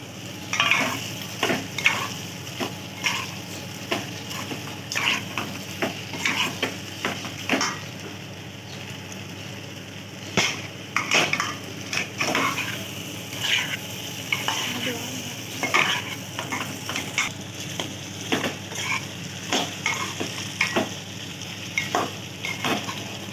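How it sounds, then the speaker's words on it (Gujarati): Potatoes frying in a pan for a Gujarati fasting-day vegetable dish, with a steady sizzle under repeated clinks and scrapes as a spoon stirs them, close and continuous. "તો હવે આપણે એમાં નાખીશું આપણા બટેટા."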